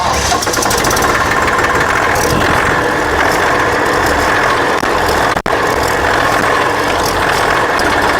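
A tractor engine runs loud and steady with a dense mechanical clatter and rattle throughout, close by, broken only by one very brief dropout near the end.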